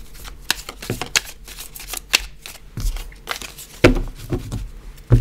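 A tarot card deck being cut and shuffled by hand, close crisp riffles and slaps in irregular bursts with soft shuffling between, no talk.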